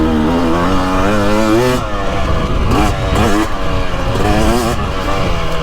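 Husqvarna TX300 two-stroke dirt bike, 2023 Heritage Edition, revving in third gear on a woods ride: a loud, close engine note climbing and dropping through several throttle surges, with rough clattering bursts between pulls.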